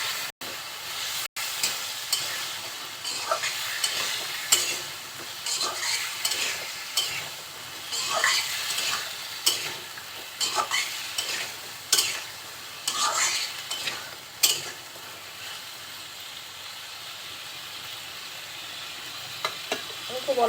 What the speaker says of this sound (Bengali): সব মশলার সাথে আলুটা খুব সুন্দরভাবে কষিয়ে নেব।